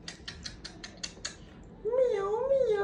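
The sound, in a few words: cat meowing at veterinary clinic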